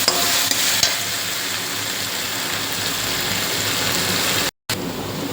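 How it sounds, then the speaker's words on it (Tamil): Vegetable hakka noodles stir-fried in a pan, a continuous loud sizzle with a few stirring scrapes near the start and a brief dropout near the end, no talk. "நூடுல்ஸ் போட்டு நல்லா கிண்டி எடுத்துட்டேன் நான்."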